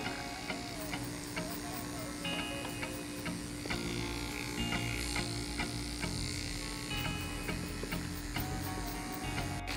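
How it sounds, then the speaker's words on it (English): Electric hair clippers buzz steadily while cutting hair around a head at a halfway guard, with a continuous mechanical drone and faint clicking ticks, close and unbroken. "I'm gonna go clipper halfway"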